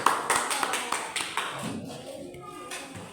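Primary school pupils in a classroom clap for a classmate named Nazrin, a quick ragged burst of hand claps lasting about a second and a half before fading into quieter room noise.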